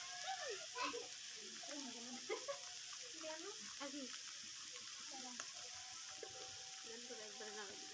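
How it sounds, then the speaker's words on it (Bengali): Food fries in a pan under a continuous soft hiss with faint stirring, while a voice talks over it throughout. "তো এটাকে নিম্নে 5-7 মিনিটের মতো খুব ভালোভাবে ভেজে নিতে হবে"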